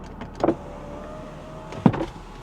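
Electric power window motor on a Porsche 911 Carrera Turbo, heard in two short bursts about a second and a half apart, close-up inside the quiet cabin with no talking.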